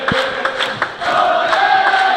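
Home crowd in the Killarney venue cheers and shouts loudly as Ireland beats Belgium in a 2022 World Team Shootout quarter-final, a close indoor roar with whoops and calls rising over it.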